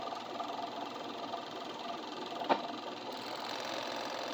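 A serger sewing machine runs steadily while stitching kilt fabric, a continuous close mechanical whir with one brief sharp tick partway through.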